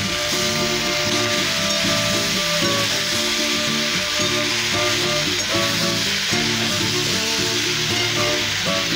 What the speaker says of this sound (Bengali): এই সবজিগুলো এবারে আমি ভালোভাবে কষে নেব।